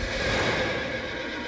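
A horse in the science-fiction film Battlefield Earth lets out a loud, close whinny that fills the short moment, with faint hoof clatter and no talking.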